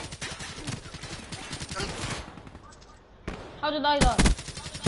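Gunfire in the video game Black Ops 3 crackles as sharp bursts through the opening seconds and again near the end, with voices talking over and between the shots.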